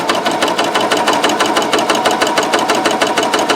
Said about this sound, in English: You hear how nice and quiet it sews?